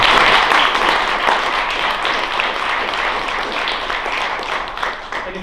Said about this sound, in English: everyone should give Skip a round of applause